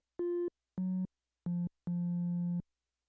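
A sine wave synthesizer playing a pluck bass sound: four clean, sustained electronic tones, the first a little higher and the last held longest, heard alone with silence between them.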